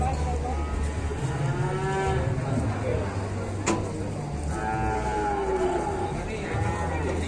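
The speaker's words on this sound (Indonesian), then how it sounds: "Ini penurunan sapi yang ketiga yang sempat galak tadi." Giant cattle being unloaded at a market moo repeatedly, long loud lowing calls close by over a busy crowd, with people talking throughout.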